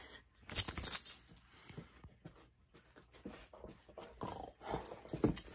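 A dog close by in a crochet workspace, with soft panting, snuffling and small movement noises, loudest in a brief burst near the start, then quieter scattered sounds.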